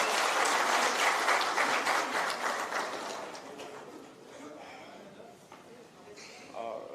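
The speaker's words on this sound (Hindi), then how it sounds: "आइए तालियों के साथ दोबारा इनका स्वागत करें।" Audience at a labour union meeting gives a loud burst of welcoming applause that gradually thins and fades over several seconds, with no talk over it.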